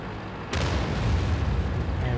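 An artillery shell explodes in World of Tanks: a sudden loud blast about half a second in, followed by a sustained heavy rumble that lingers to the end.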